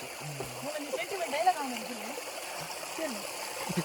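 Water rushes steadily down a stream below an unexplored waterfall, a constant broadband wash with splashes, while voices talk over it.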